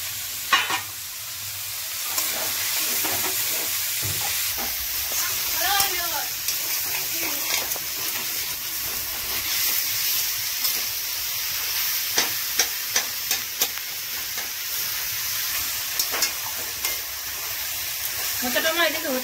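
Spice masala with turmeric frying in a pan for a banana flower and puti fish dish, a steady close sizzle with scraping stirs throughout, a voice talking over it now and then.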